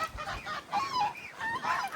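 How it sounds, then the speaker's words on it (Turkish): Several geese honk repeatedly in a windy garden, nasal calls overlapping in quick bursts, fairly close with light wind noise underneath. "Kazlar genelde rüzgarlı havaları çok seviyor."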